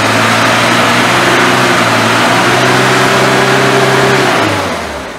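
A Renault Trafic van engine, wet with water after 23 years stored in a barn, runs loudly and steadily with a low droning note, then drops in pitch and fades near the end.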